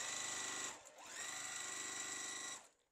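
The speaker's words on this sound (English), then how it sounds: "I'm going to sew this, I'm going to put my seam together, hold on to it, and sew." A sewing machine chain-pieces quilt fabric strips, running steadily with a brief dip and pause partway through before resuming its close, even whir, then stopping.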